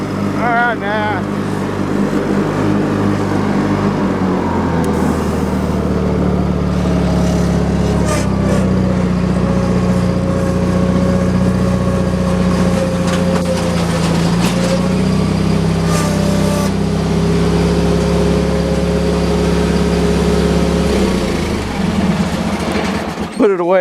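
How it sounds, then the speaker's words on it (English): A riding lawn mower's engine runs steadily and loud throughout while it is driven around, a constant low drone with shifting tones, and a person talks over it now and then. "This mower needs exercise every now and then, so I like to take it out."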